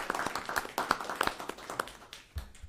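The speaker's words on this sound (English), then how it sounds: "Another round of applause." Sparse applause from a small group at a school committee meeting, individual claps clearly separated and uneven, thinning out and fading by the end, with a faint voice.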